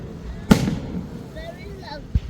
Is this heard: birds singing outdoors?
no